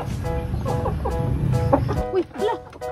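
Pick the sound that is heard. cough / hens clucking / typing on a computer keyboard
hens clucking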